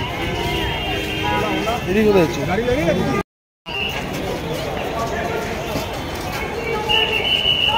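A steady, rumbling clatter of a moving Shantipur local train from Sealdah fills the clip, with a brief voice-like sound early on and a short dropout midway.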